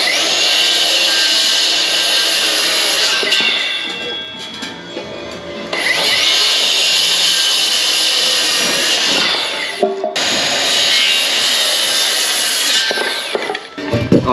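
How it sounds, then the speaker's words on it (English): An AEG 18V cordless framing saw rips through F17 hardwood timber in three long, loud passes, each a sustained high whine with a brief drop and spin-up between cuts. No speech is heard. "we will set it up and rip some F17 from hardwood timber"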